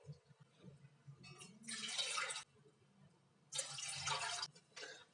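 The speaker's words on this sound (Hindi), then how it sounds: "अपने बर्तन में हम यहाँ पर 2 कप पानी डालेंगे।" Water pours into a cooking pot at home in two separate bursts, a steady splashing rush lasting about a second each, followed by a brief trickle, fairly close and clear.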